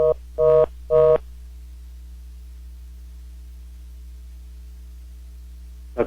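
A telephone line after a call disconnects gives three short electronic beeps in quick succession, then a long stretch of low steady hum, and one more brief beep at the very end.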